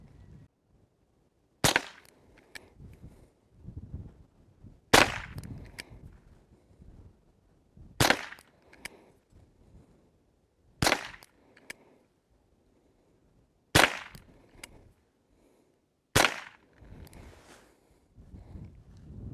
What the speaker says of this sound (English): So we'll go ahead and load it up and take some more shots.